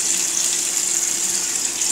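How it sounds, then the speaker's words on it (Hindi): Water heating in a cooking pot with a cup of milk hisses and rushes steadily for two seconds as it comes to a boil, close and continuous with no talking. "पानी औटने लगा है देखिए"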